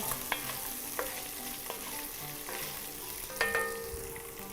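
Meat frying in a pan with garlic on the stove, a low steady sizzle with a few faint utensil clicks and scrapes, quiet and with no talk.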